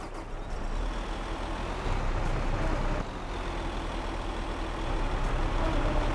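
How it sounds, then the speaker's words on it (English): Harvester unloading in Farming Simulator 22, a steady loud heavy-machinery engine drone with a continuous mechanical rumble throughout, no talking. "Turn on the harvester so it can unload."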